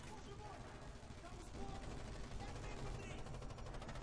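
Machine gun fire in the Red Orchestra 2 video game: rapid bursts of gunshots crackling amid dense battlefield noise, sustained and moderately loud across the whole stretch.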